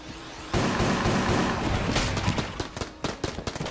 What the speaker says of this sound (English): Rapid firing enemies.